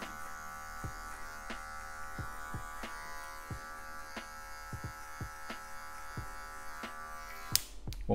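An electric hair clipper buzzes steadily and close while trimming an afro fade, with regular faint clicks and snips as the blade passes through the hair.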